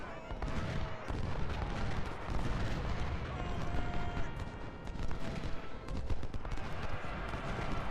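Battle din from Ultimate General: Civil War, with booming cannon fire and scattered gunshots rolling continuously for the whole stretch, dense and loud, with faint tonal game sounds mixed in.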